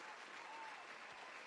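Steady applause from a crowd during a sports call-in show, a continuous dense patter of clapping at moderate level.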